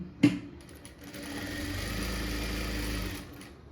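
A sewing machine stitching a quarter-inch seam on a blouse band: a sharp click, a brief pause, then a steady close whirring run of rapid stitches for about a second and a half before stopping.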